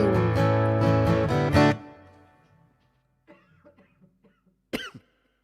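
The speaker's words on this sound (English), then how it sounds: "I got a cough in there" A sung note from a song trails off into quiet, then a single sharp cough from the singer bursts out close up near the end.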